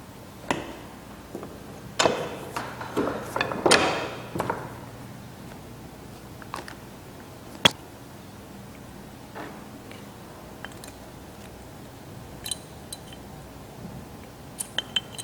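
A clicker die cuts buck brown harness leather for keychains, heard as faint, scattered sharp clicks and thumps with a few louder impacts against a quiet background.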